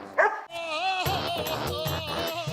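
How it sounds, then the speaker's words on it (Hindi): A dog barks repeatedly at close range in sharp yapping bursts, with a brief whimper at the start and a busy indoor scene around it. "अभी भी इसको कुछ लाज शर्म है ही नहीं, अभी भी भौंका ही जा रहा है।"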